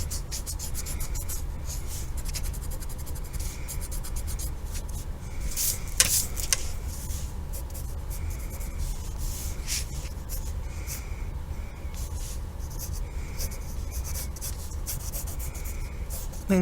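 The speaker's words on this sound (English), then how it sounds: "I'm going to draw that second leg in." Pencil scratching and rubbing on paper while drawing a leg on a self-portrait, a close, continuous run of short rasping strokes in an uneven rhythm, with one sharper scrape partway through.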